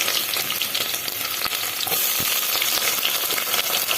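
Onion with cloves, cardamom and cinnamon fries in hot oil for a goat meat curry in a pressure cooker, producing a loud, dense, unbroken sizzle with faint stirring scrapes.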